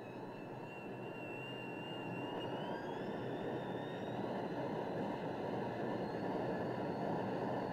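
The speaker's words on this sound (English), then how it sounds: "the jet engine noise is overpowering" Jet aircraft engines on a carrier flight deck make a steady, loud whining roar with a rising high-pitched tone, continuous throughout and without speech.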